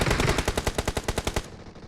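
Rapid video-game machine-gun fire, a tight string of about fifteen evenly spaced loud shots over roughly a second and a half, then a quick fade.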